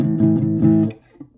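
Brief burst of a rock song from an Amazon Prime commercial, dense distorted chords pulsing for about a second before cutting off, loud and close with no speech.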